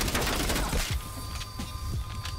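Gunfire from an MP5 submachine gun in Call of Duty Cold War: a rapid burst of shots at the start, then a few scattered, quieter shots and game ambience.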